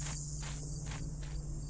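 Crickets in a Thief fan mission chirp in a steady rhythm of short regular pulses above a constant low ambient hum, moderately loud, with no voices.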